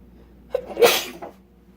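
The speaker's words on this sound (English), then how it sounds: "that stuff will make you sneeze." One sharp sneeze bursts out at close range in the middle of a quiet kitchen moment, brought on by seasoning sprinkled over food during cooking.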